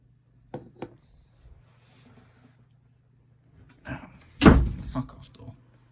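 A door bangs indoors during a miniature-painting session, with a couple of small knocks followed by a loud, close thud and rattle. A person speaks around the noise.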